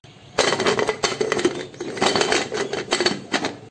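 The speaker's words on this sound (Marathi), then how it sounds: "कुकर लावून घ्यायचंय आपल्याला झाकण" A metal pressure cooker lid clatters and clinks as it is fitted and closed over a pot of colocasia-leaf curry with raw corn and peanuts; close, busy bursts of metallic knocking with no talk.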